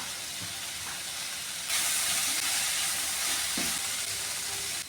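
An egg roast masala seasoned with black pepper powder sautés in a pan, giving a steady, close sizzle and hiss that swells louder partway through, with a few soft knocks of the stirring spoon and no voices.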